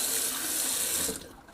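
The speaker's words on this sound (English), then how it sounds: "Gonna rinse out the old sink." Steady rush of tap water running into a bathroom sink for rinsing, close and fairly loud, holding evenly before tapering off as the flow is shut at the end.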